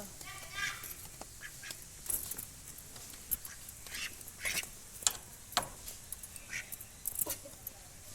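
A duck quacks in scattered, uneven bursts over a low background hum, some calls sharper and louder than others.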